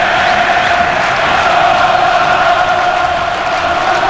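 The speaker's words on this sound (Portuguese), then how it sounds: "volta a cantar na arquibancada do Beira Rio" Football crowd singing in the stands of Beira-Rio stadium during a Copa do Brasil match, a loud, dense, continuous roar of many voices, distant and blended.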